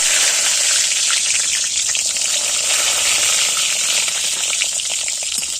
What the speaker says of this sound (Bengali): বেগুনটা প্রথমে আমি ভেজে নেব